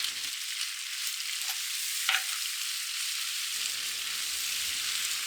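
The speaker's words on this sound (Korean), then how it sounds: "파프리카를 살짝 데운다는 느낌으로 잘 섞어요" Paprika and green onion are stir-fried in a pan with a soft, steady sizzle and hiss. It runs alone at a low, even level.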